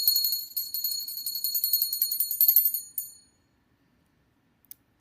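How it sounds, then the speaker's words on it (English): A small hand bell rings continuously in rapid tinkling strokes for about three seconds, then stops, followed by a single faint metallic tick near the end; loud and close, with no talk. "Now the bell I'm ringing is actually the Liberty Bell."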